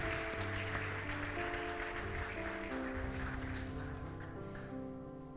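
Church congregation applauding in praise to God during a Portuguese-language sermon, a sustained dense wash of clapping mixed with organ or keyboard chords held underneath throughout.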